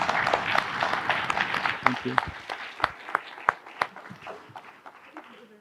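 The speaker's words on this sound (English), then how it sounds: "A big applause." An audience at the close of a Nobel literature session claps steadily, scattered sharp claps thinning out toward the end, with a brief spoken thanks over it.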